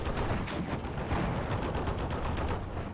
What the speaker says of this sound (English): 50 cals opening up across the board again